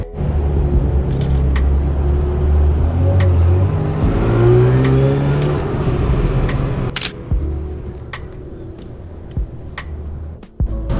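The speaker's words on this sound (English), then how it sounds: "Oh, two Porsche GT3RSs." Two Porsche GT3 RS supercars pass on a London street, loud nearby engine rumble that builds, shifts pitch as they go by, then fades, with camera shutter clicks near the end.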